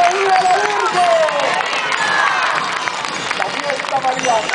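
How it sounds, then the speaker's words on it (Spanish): A large crowd cheers and claps loudly and continuously, with shouting voices and whistles mixed into the roar. "¡Otro rendido aplauso!"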